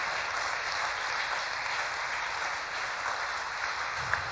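Congregation applauding the Lord during a French-language thanksgiving church service, a steady, even wash of clapping from a crowd lasting the whole span, no voices over it.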